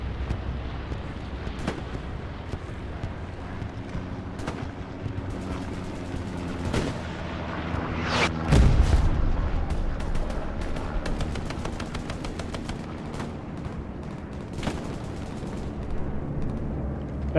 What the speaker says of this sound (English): That's an enemy bombing run.